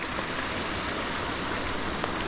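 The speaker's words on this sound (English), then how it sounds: "Kind of resembles a waterfall, and I think it's just a runoff because it runs right across the trail." Runoff water pours across a flooded hiking trail in Maine, flowing like a small waterfall. The rushing is steady, broadband and fairly loud throughout, with no voices.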